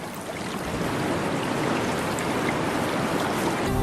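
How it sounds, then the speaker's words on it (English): Rainwater flows along furrows in the rock surface of the Mount Roraima plateau, a steady, dense rush and trickle of running water that holds at an even level throughout, close and continuous with no voices. "Rainwater, which collects in deep pools, is channeled along furrows in the rock surface,"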